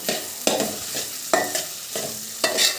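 Ginger frying in oil with shallots and curry leaves for Kerala puli inji, stirred with regular scraping strokes every half second or so over a continuous sizzle, close by with no talking.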